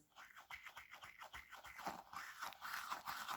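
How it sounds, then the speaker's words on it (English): A small alien squish toy filled with foam beads is squeezed and kneaded up close, giving a quiet, repeated crunchy crackle and scratchy rustle in an uneven rhythm. "This is a little alien squish with foam beads inside, which make a really, really nice texture."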